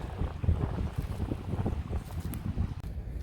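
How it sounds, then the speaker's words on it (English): Wind gusts across the microphone on a nature trail beside Pequessing Creek in Benjamin Rush State Park, a steady low rumble and buffeting that fills the whole stretch with no talking. "A little windy."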